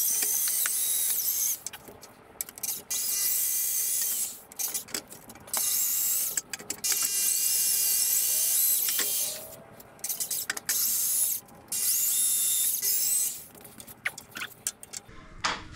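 A power drill whirs in loud bursts, starting and stopping repeatedly as it bores, with short pauses and clicks between runs.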